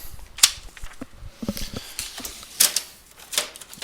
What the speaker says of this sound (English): Type that through my calculator real quick